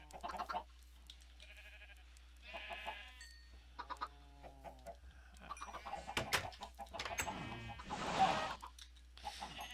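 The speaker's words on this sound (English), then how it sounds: "Breed, chickens, breed!" Chickens cluck and squawk in the Minecraft video game in short, scattered bursts at moderate volume, with a few louder calls near the end.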